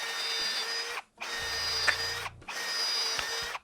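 A $67 cordless hammer drill driver, set to drill mode in first gear, whirs loudly and steadily in three close bursts separated by brief stops, with a low rumble beneath the middle run.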